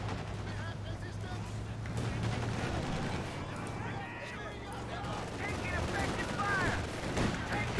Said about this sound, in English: The enemy is firing on our HQ.